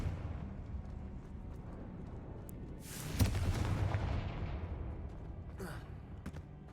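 A Confringo fire spell from Hogwarts Legacy bursts with a sharp whooshing boom mid-way, trailing a rumbling tail; a second, quicker burst follows, all fairly soft and set over a low game backdrop.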